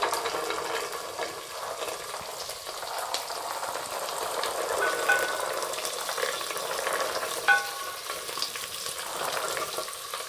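Onions and fresh peas fry in hot ghee and oil for a biryani, a steady close crackling sizzle with soft stirring scrapes throughout and no voices.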